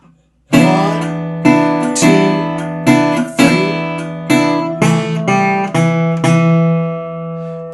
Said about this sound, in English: So all together, the riff sounds like this.